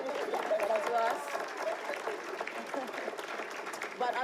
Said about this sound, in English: that's another round of applause for us